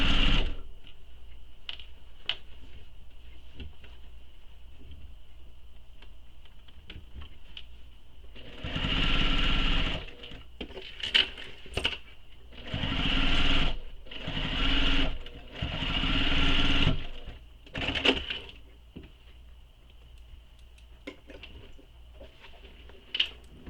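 A sewing machine stitching a mini messenger bag, running in several bursts of rapid whirring with short pauses between them, close up, after a quiet opening with a faint background hum.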